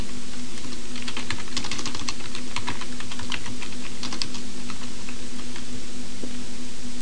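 Fast typing on a computer keyboard as an email address is entered, with clusters of quick key clicks over a steady background hum and no speech.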